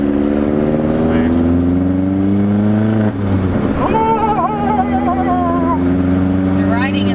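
A turbocharged 1.8-litre Chevy Cruze running 60 lb injectors pulls hard into light boost, its engine note rising in pitch as it accelerates, then shifting and climbing again; loud cabin drone with voices talking over it.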